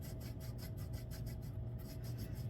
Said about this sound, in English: just go back and forth and really scrub all the way around.